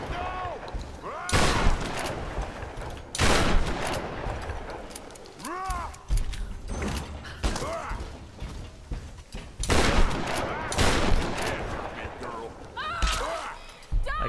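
Gunfire in the Tomb Raider video game, several loud separate shots and booms spaced through the clip among mechanical clanks and game effects, with voices heard in between.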